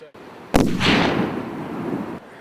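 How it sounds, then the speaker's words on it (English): A single sharp rifle shot rings out while hunting on rafting terrain along the Clarence River near Kaikoura, with a loud crack followed by a long rolling echo that fades slowly. "Just shot."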